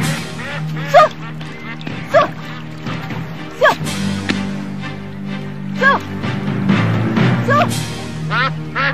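A bird calls over and over in a palace-like indoor setting. Its squawks sound like quacks and honks, loud and close, at roughly one-second intervals over a low background hum.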